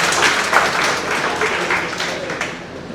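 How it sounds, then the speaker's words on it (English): Audience applause at a design conference talk in Kozhikode, a dense patter of many hands clapping steadily through the clip, fairly loud and close, with some voices mixed in. "So yeah, clap."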